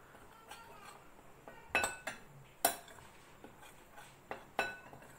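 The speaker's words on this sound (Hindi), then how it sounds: "अब मैं सारे मटेरियल को अच्छे से मिक्स करती हूँ।" A spoon stirring brownie batter of mixed ingredients in a cup for a microwave brownie, giving scattered sharp clinks and scrapes against the cup at an uneven pace, fairly close and alone.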